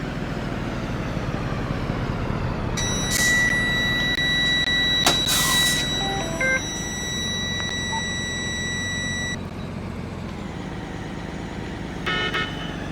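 A 2013 Thomas HDX school bus drives in the Rigs of Rods simulator, giving a steady low engine drone with a long high electronic tone and brief beeps partway through, and a short rattle near the end.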